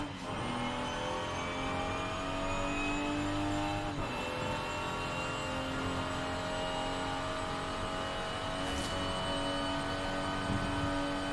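Race car engine droning steadily on a circuit in Forza Horizon 5, a loud sustained whine with a brief gear-shift dip partway through, no talk.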